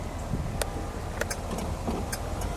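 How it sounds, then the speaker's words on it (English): A 1965 Cadillac Eldorado convertible's turn signal clicks in faint, evenly spaced ticks over a steady low hum of engine and road noise while the car drives through a turn. "I just want to show that turn signal"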